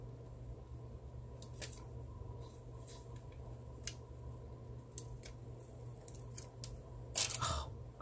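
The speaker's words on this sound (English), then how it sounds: "I'm gonna cut this sticker" Scissors cutting a clear sticker for a teacher planner, a handful of crisp, quiet snips spread irregularly over a low background hum, with a louder cluster of cuts near the end.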